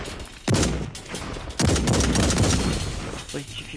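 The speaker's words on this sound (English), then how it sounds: "A combat rifle." Combat rifle fire in the video game Blacklight Retribution, two loud bursts of rapid gunshots, the second burst longer and sustained, with faint talk beneath.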